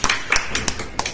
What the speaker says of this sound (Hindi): तुम भी ताली बजाओ,